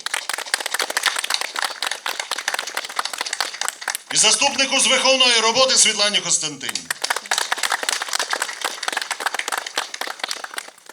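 Dense applause fills a school Knowledge Day assembly for the deputy directors, fading as someone speaks over a short pause, then swelling again and carrying on steadily to the end.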